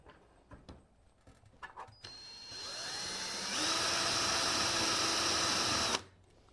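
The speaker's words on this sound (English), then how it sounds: "take this smaller screw and drill through the aluminum" A power drill winds up and grinds steadily through aluminum on a custom computer case for a few seconds, then cuts off abruptly, after some light handling clatter.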